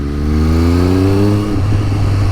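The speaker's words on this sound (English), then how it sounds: "It's really quite a deep tone to this exhaust." A Triumph Street Triple 765RS motorcycle fitted with an aftermarket exhaust revs close by with a deep, steady engine tone that climbs and then eases back to idle, with no talk.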